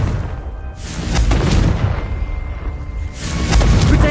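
A Confringo spell explodes in Hogwarts Legacy on PS5 with booming blasts, a heavy rumbling burst early on and another loud boom near the end over a dense, roaring low background.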